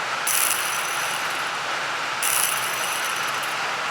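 A whirring metallic buzz from a small metal propeller spinning on a fishing lure, steady throughout with two brief brighter bursts near the start and middle.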